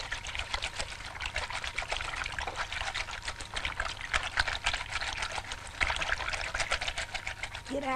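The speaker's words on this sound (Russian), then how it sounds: "Стирайте, стирайте как следует, не жалейте воды." Water poured and splashed during laundry washing in a 1976 puppet theatre production: a continuous trickling, splashing stream with rapid wet slaps throughout, fairly close and steady, without speech.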